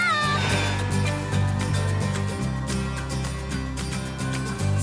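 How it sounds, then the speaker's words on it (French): A cartoon farm cat meows, its high whining calls rising over steady, looping background music in an animated children's show. "C'est le chat de Tom le fermier."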